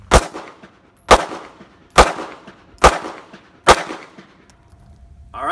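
Five evenly spaced handgun shots fired at a target on a range, each a sharp, loud crack with a short decay, roughly one second apart, with no talking.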